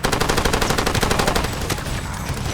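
Rapid automatic gunfire from enemies in the video game Far Cry 2, a dense, loud burst of repeated shots that thins out toward the end.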